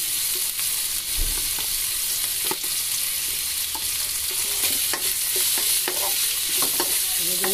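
Longganisa sausage sizzles in a pan with chili, a loud, steady frying hiss broken by scattered pops, crackles and stirring clinks, close and without talking.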